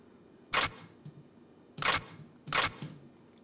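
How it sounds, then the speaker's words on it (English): Three crisp mechanical clicks, like a shutter or lever snapping, spaced unevenly with faint small clacks between them, fairly close and dry. "it's kind of the sound that you would generally pair with a shifter"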